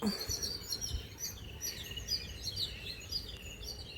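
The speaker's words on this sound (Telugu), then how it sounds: "ఈవినింగ్ అయితే ఇట్లుంటుంది పిచ్చుకల సౌండ్స్" Sparrows chirp and twitter in quick, overlapping calls in the evening, somewhat distant and fairly faint over a low background hum.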